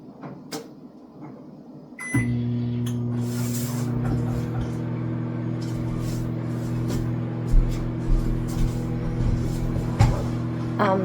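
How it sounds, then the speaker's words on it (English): A microwave oven hums steadily while melting butter, starting with a click and a beep and then running as a loud, even drone with occasional small clatters nearby. "I'm going to pop it in the microwave one more time."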